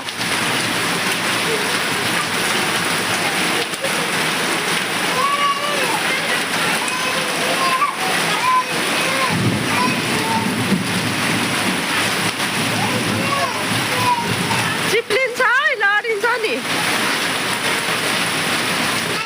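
Rain pours steadily outdoors as a dense, even hiss of falling water that runs the whole time, with a few faint voices and brief clatters nearby.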